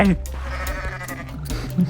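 A goat bleats in the video game Goat Simulator. Short, nasal bleats sound close, mixed with game noises and a voice in the background.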